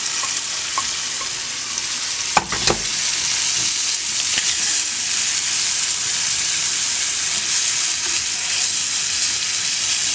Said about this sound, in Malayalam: നമ്മൾ എടുത്ത് വെച്ചിരിക്കുന്ന വഴറ്റി വെച്ചിരിക്കുന്ന വെളുത്തുള്ളി ഇതിലേക്ക് ആഡ് ചെയ്യാം